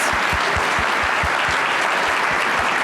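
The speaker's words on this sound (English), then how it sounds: "So one last round of applause for all the USD teams." Audience applause at a university social innovation award ceremony, dense steady clapping from a crowd in a hall throughout.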